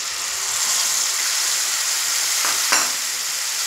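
Fried Mourala fish and mustard-green chili paste go into a hot frying pan, giving a loud, continuous sizzle with a brief scraping stir near the end.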